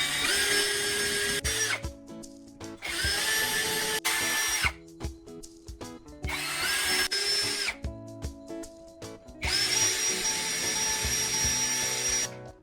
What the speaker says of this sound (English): drill 1 mounting hole in each flattened end